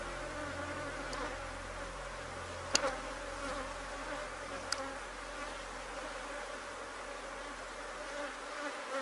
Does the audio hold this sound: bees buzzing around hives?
yes